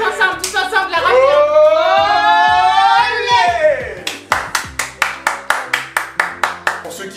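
Close hand claps for a clothing haul: a voice first holds a long wavering tone, then roughly a dozen evenly spaced, crisp claps follow alone in a steady rhythm.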